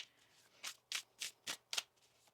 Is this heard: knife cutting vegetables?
no